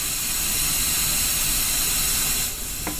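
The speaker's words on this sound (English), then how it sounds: "And I'm going to make it make a white noise." Broadband white noise from a mixing desk's test oscillator fills the clip with a steady, loud hiss that dips briefly near the end, followed by a short faint tone.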